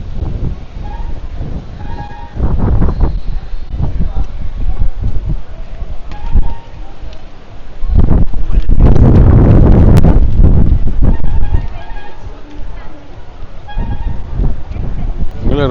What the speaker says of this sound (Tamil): காற்று, அருமையான காற்று.